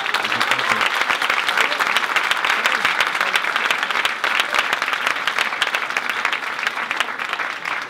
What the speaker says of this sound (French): Il mérite tous vos applaudissements, c'est déjà fait.